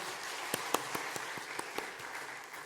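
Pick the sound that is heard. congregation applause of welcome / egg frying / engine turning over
congregation applause of welcome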